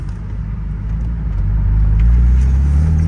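A BMW Z3 M Roadster powered by the S54 engine drives past with a loud, steady low rumble that builds slightly as it goes, no voices over it.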